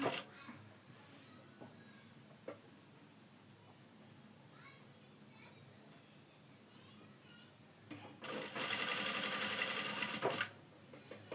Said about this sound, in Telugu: నిదానంగా కొంచెం కొంచెం కుట్టండి